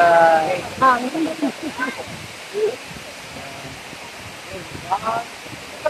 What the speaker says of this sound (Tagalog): Bumubula yung tubig sa baba, pagbagsak sa